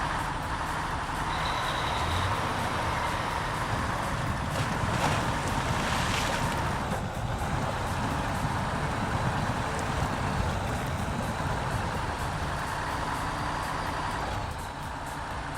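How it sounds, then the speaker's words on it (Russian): A truck engine in the SnowRunner video game drones steadily in the Taymyr quarry area, a loud, continuous low rumble that holds nearly constant for the whole stretch with no talk over it. "Движок, кстати, звучит тоже ужасно."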